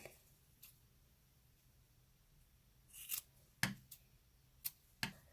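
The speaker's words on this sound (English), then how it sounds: "And now I can just cut right here to make a little bit short." Scissors snip through yarn on a braided scarf for a decoration doll, giving a few sharp, quiet close-up cuts spaced irregularly against a near-silent room.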